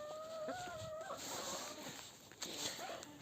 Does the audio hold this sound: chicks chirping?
yes